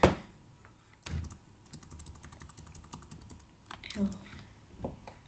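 Computer keyboard typing while entering a circle-area formula in Autograph geometry software, quick irregular key clicks in scattered bursts with a louder thunk near the start and end, close and moderately quiet.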